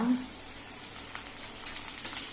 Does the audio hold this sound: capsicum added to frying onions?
yes